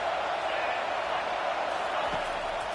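Stadium crowd in the College Football 25 video game roars steadily as a dense, broadband wall of noise on third and goal, loud and unbroken throughout with no clear voices standing out.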